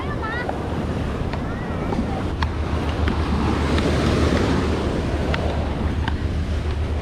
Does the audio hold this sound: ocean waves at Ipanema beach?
yes